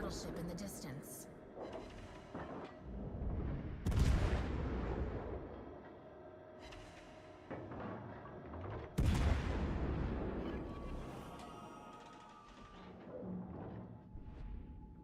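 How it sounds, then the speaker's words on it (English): Distant battleship gunfire in a naval video game: two heavy booms with long rumbling decays several seconds apart, plus a fainter crack at the start, over continuous game ambience. "Battleship in the distance."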